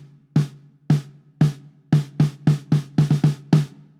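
A drum kit plays the pre-chorus rhythmic hits of a song, about a dozen punchy strikes with a sustained low tone, grouped in a syncopated pattern with quick doubled hits near the end, close and clean with no talking.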